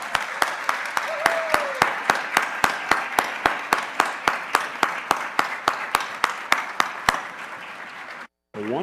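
A crowd at a Washburn University employee recognition ceremony applauds staff marking five years of service. Steady, dense clapping carries on for about eight seconds, broken by a brief silent gap before it resumes.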